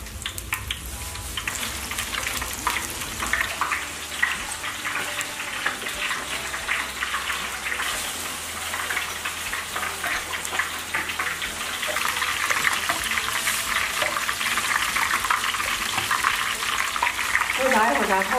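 Battered carp for sweet and sour fish fries in hot oil in a home kitchen, a loud, continuous crackling sizzle that swells toward the end, with occasional talk.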